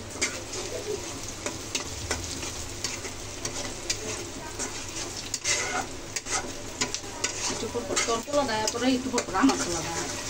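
Dried fish (shutki) with chopped onion stir-fried in a pan, a continuous loud sizzle broken by frequent scraping and clinking of the spatula, close up throughout.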